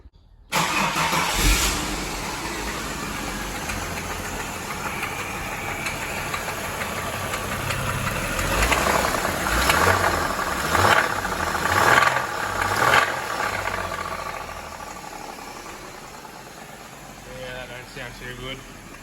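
A Holden VY car engine starts and runs rough with a knocking, rattling idle that swells and fades over several seconds, heard close up with some voices in the background.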